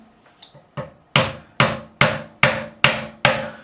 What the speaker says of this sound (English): So what we're going to do is we're going to take a fretting hammer